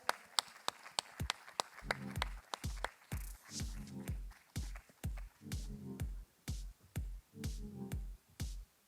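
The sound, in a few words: audience applause for co-authors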